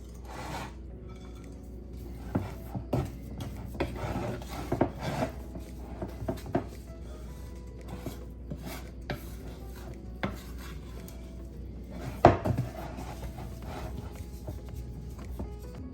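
Chocolate chip cookie dough being worked by hand as flour is folded in, giving repeated soft rubbing and scraping strokes with scattered light knocks, close and fairly quiet, with one sharper clack near the end.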